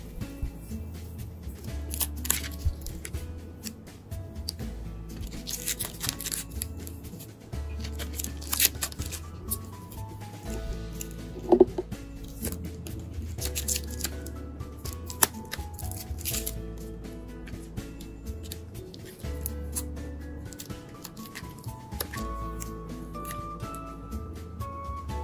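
Crinkly plastic blister packaging of a Digimon Vpet Color being peeled open by hand, a close, steady run of crackles, rustles and small clicks for about 25 seconds with no voices.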